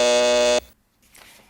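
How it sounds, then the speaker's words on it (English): A loud, steady electronic buzzer on a high-school quiz show in Washington, DC sounds for about half a second and cuts off sharply, leaving near silence with faint room noise. "And there's the buzzer."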